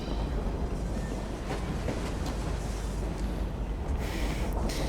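Train running in the video game Assassin's Creed Syndicate: a dense, steady rumble with a hissing wash and scattered faint clicks throughout, moderately loud and unbroken.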